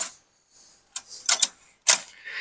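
A few sharp, dry clicks in quick bursts with near silence between them: a car's ignition clicking on a dead battery in the cold, the engine not turning over.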